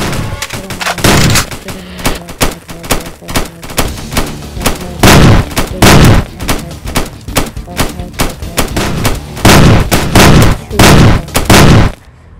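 Rapid gunfire from a Roblox SWAT simulator game, with loud bursts of shots and sharp single cracks packed close together and repeating throughout, each burst trailing a brief echo.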